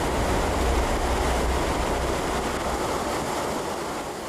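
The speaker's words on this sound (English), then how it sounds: "The powerful mass churns downstream, destroying anything and anyone unlucky enough to be caught in their path." A lahar, a volcanic mudflow of debris and water near Pinatubo, churns downstream as a dense, steady roar, heavy and continuous like pounding surf, that fades slightly toward the end.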